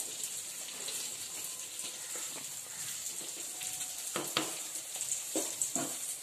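Fish curry bubbling in a clay pot, a soft continuous simmer with scattered small pops and a few sharper clinks, fairly faint and close.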